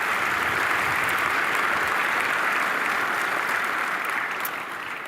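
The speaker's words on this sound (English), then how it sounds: "Give him a warm round of applause." Sustained, dense applause from a large audience honoring a medal winner at a skills competition ceremony, steady and loud throughout before tapering slightly at the end.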